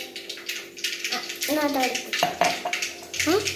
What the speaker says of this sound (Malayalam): ഇനി കുറച്ച് വെള്ളം കൂടി ഒഴിക്കാം.